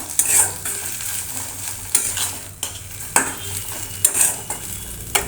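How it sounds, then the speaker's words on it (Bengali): Fish roe frying in oil, crumbled like a bhujia and stirred now and then, a continuous bright sizzle punctuated by several scraping strokes of a spatula at irregular intervals. "আর বাকি এই ডিমটাকে ভুজিয়ার মতো করে ভেজে নেব"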